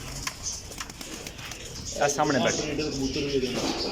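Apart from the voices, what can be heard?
pigeons cooing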